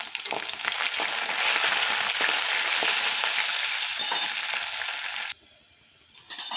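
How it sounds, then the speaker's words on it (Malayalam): Ginger and garlic sizzle steadily in hot oil for a Kerala-style fish curry, a loud continuous frying hiss with a brief spatter burst near the end before it quietens, then swells again. "അതിലേക്ക് നമ്മൾ ഇഞ്ചിയും വെളുത്തുള്ളിയും ഇട്ട് കൊടുക്കുകയാണ് കേട്ടോ"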